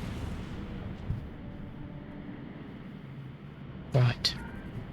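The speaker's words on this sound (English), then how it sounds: "We'll try and fly away so we don't get caught in the explosion." A starship explodes in the Star Trek Online space game: one short, sharp blast near the end, followed by a smaller pop, breaking a quiet, low rumbling background.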